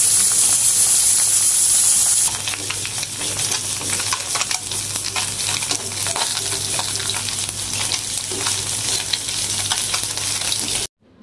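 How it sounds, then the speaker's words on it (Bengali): Fish frying in a pan of oil and being turned over, a loud, steady, close sizzle with hiss that runs without a break and then cuts off abruptly at the end. "ভালোভাবে উল্টায় পাল্টায় ভেজে নিব, যাতে করে প্রতিটা মাছ ভালোভাবে ভাজা হয় আর লাল লাল হয়ে যায়"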